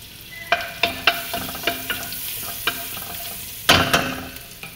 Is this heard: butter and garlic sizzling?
yes